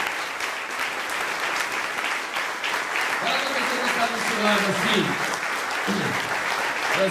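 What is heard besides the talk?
church congregation clapping for God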